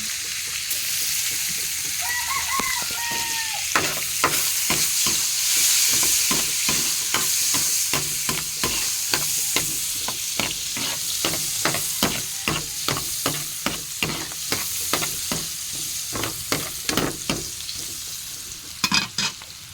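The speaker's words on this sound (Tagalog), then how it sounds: "gisa muna tayo na Ricardo" Sautéing aromatics for a Filipino mung bean stew (munggo): steady sizzle and frying hiss in a pan with regular stirring scrapes and clinks throughout, fairly close and alone, no talk.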